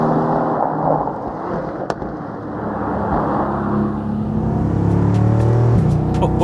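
A 2020 Mercedes-AMG GT R Roadster pulls away with a loud, deep engine roar that builds and rises in pitch as it accelerates, heard up close with no talking.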